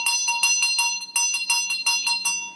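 A small brass vajra bell rung in quick repeated strokes, each strike bright and ringing with a sustained metallic shimmer, close and clear with no voices.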